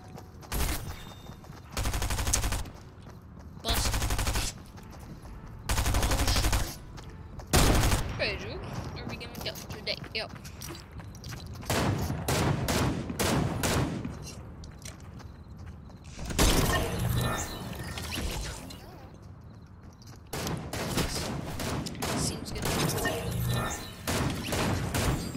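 Gunfire from the Fortnite video game, bursts of loud shots and rapid volleys with sharp impacts and breaking sounds, repeating through the whole stretch with brief pauses between bursts.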